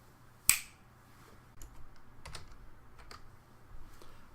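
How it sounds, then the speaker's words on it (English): A single sharp finger snap rings out near the start, loud and close, followed by quieter scattered clicks and taps. "When I snap my fingers"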